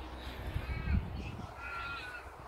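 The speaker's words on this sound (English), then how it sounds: "We got birds out here." Crows caw outdoors around a house, a few hoarse calls at moderate distance over a steady, faint background hum, with no one speaking.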